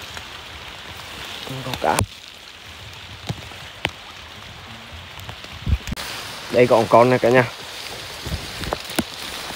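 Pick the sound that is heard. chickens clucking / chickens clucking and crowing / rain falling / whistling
rain falling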